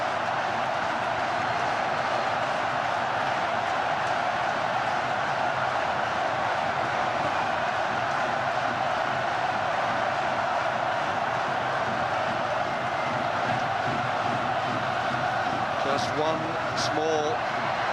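A packed stadium crowd at the 2002 World Cup match between South Korea and Italy, with Korea winning, roars in a sustained, dense wall of noise beneath a commentator's continuous speech.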